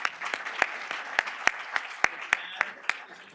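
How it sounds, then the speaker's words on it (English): A small panel audience gives light applause, sparse, distinct hand claps repeating in an uneven rhythm, fairly quiet, with some talking underneath. "please join me in giving them a round of applause"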